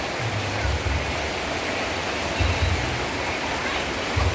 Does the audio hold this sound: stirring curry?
no